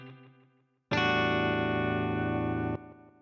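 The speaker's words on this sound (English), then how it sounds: "I'm going to use the Ableton Live amp simulator. And we're also going to add a cabinet." A synth chord runs through Ableton Live's amp simulator with a cabinet effect, giving a thick, gritty distorted tone that holds loudly for a couple of seconds and then cuts back to a quieter tail.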